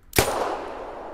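A single sharp rifle shot in theHunter Classic hunting game, a loud close crack that strikes an animal, followed by a long fading echo tail.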